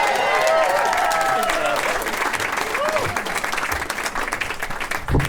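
A comedy club crowd at the Punch Line in San Francisco applauds and cheers loudly, with whoops and shouts over steady clapping that thins slightly toward the end.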